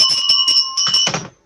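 A shrill electronic alarm tone beeps in short rapid pulses, then breaks into a brief rattling burst before cutting off.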